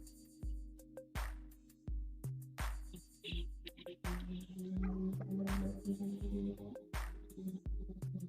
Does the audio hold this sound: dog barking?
yes